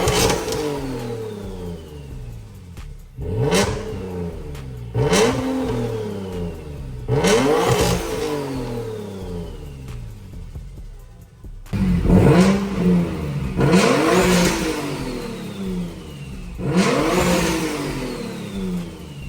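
A turbocharged Infiniti G37 with about 800 horsepower accelerates hard at wide open throttle in repeated loud, close pulls, each engine roar rising in pitch through the gears before dropping back.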